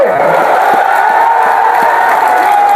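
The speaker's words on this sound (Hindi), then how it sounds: "जोर से ताली बजाओ आनंद के लिए" A large crowd at an election rally in Buxar, a public meeting addressed by Union minister Amit Shah, claps and cheers for a candidate, making a loud, steady roar of applause and whoops that fills the whole stretch.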